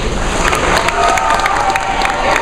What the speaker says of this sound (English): Hey Dylan, I think you have a cheering crowd over there.